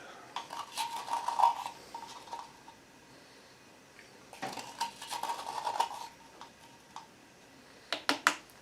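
Small metal measuring spoon, a half teaspoon, clinking and scraping against a container while scooping baking powder for strawberry shortcake, several bright close taps in bursts separated by quiet pauses.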